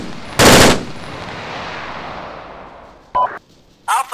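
Machine gun fire in the military shooter game Arma 3: one loud, short burst, then two brief bursts a few seconds later, each ringing out over a fading outdoor echo.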